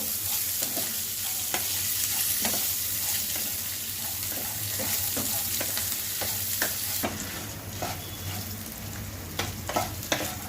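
Bitter gourd and chana dal frying and being stirred in a pan, a steady close sizzle with repeated scraping stir strokes throughout, no talking.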